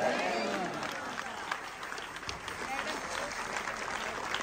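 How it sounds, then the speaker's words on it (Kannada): An audience gives a standing ovation to an aged singer at a Haridasa devotional music event, loud clapping at first that settles into steady applause with some murmuring throughout. "ಅವರಿಗೆ ನಾವೆಲ್ಲರೂ ಎದ್ದು ನಿಂತು ಜೋರಾದ ಚಪ್ಪಾಳೆಯೊಂದಿಗೆ ಅಭಿನಂದನೆಗಳನ್ನು ಸಲ್ಲಿಸೋಣ"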